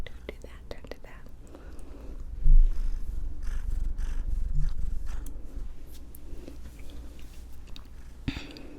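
A big cat purrs close up in a low, continuous rumbling hum. Soft whispering and small mouth noises sit over the purring.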